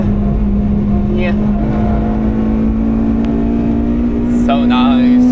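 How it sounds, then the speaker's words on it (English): Honda Civic EP3 Type R engine pulling steadily at the Nürburgring, a loud sustained drone rising gradually in pitch over several seconds, with a driver's voice and brief whoops over it. "Just gently lift and on the gas."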